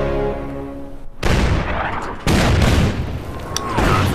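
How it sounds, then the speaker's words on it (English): Artillery fire in the strategy game Order of Battle: Winter War, two heavy booming blasts with long rumbling tails that follow a fading tonal sound, loud and close. "I forgot they had that artillery there."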